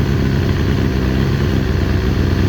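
A 2000 Kawasaki ZX6R motorcycle engine runs steadily at a fast idle while its carburetors are being balanced, a loud, close, continuous throb with slight wavering in revs and no talk.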